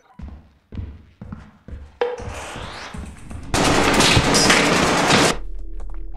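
A turret in Lethal Company fires a few separate thumping shots at first. These build into a loud, sustained rasping burst of rapid gunfire that ends abruptly in a low rumble.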